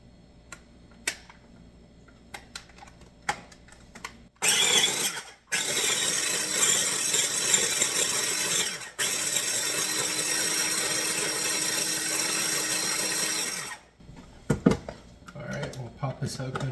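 A food processor grinds chunks of bread into fine crumbs for carp bait, a loud steady whir running for several seconds, briefly stopping and restarting, with quieter handling noises before and after.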